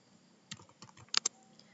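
A short burst of keyboard typing, several distinct clicks with a couple of louder, sharper keystrokes near the end, close and clear against a quiet background.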